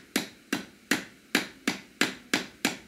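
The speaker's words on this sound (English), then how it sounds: "I still have to use the hammer to kind of tap it in place." Hammer taps driving a hard plastic part into a microphone stand, eight sharp, evenly spaced strikes about every third of a second, close and moderately loud with no voices.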